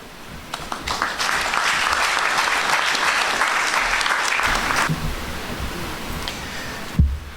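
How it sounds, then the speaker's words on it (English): An audience at a Movement for Social Justice local government campaign launch gives a sustained round of applause, building quickly to a steady, loud wash of clapping that tapers off near the end, followed by a sharp bump. "can you please give each of them a round of applause?"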